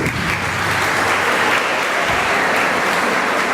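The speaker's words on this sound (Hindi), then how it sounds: "एक बार सांभवी का जोरदार तालियां बजा करके हम स्वागत करेंगे" An audience claps loudly and steadily for a student poet at a poetry gathering, a dense, continuous burst of applause that fills the room with no voices over it.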